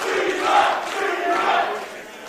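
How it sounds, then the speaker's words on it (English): A wrestling crowd roars and cheers at a live pro wrestling show, a loud sustained wall of voices swelling twice in quick succession. "listen to this crowd"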